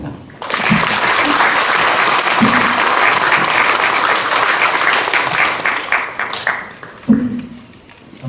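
Sustained, loud applause from an audience at a church denomination election debate for general assembly candidates, dense clapping that swells in after a brief pause, holds steady for several seconds, then thins out and fades.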